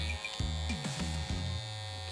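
Electric hair clipper buzzing during a men's haircut in a barbershop, a steady close motor drone whose pitch dips and shifts several times as the blades move through the hair, with no talking.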